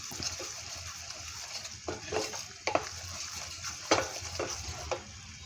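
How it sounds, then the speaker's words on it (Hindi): Besan laddu mixture with cardamom powder is stirred in an Amway Queen pan, giving a continuous soft sizzle broken by several sharp scrapes and taps of the spoon against the metal. "अब मैं इस सभी को मिक्स कर दे रही हूँ"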